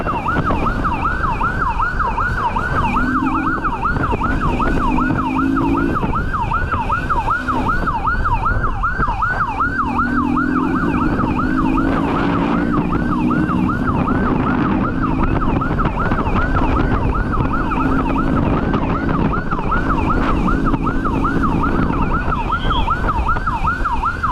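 Police sirens wail continuously during a high-speed chase of a motorcycle, a fast rising-and-falling yelp layered with a slower wail, loud and close over steady traffic rumble.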